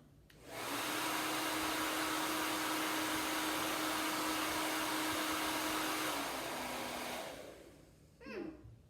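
A hair dryer on its high setting blowing at a small model house, switching on to a loud steady whooshing hum that runs for several seconds before cutting off, followed by a brief clatter.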